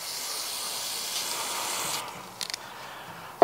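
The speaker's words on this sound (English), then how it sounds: "So I'm just using some brake clean." A steady aerosol spray of brake cleaner on engine connecting rod bolts hisses for about two seconds, then stops, followed by a couple of short bursts and a sharp click.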